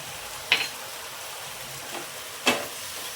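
A spoon stirring mushroom rice with garam masala in a pan: quiet background sizzle with two short scraping strokes, plus a faint one in between, with no talking.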